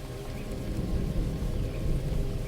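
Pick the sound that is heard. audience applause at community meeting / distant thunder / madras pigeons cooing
distant thunder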